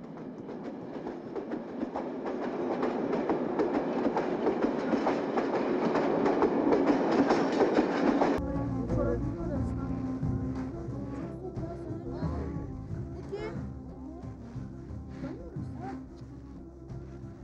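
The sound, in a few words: train running on rails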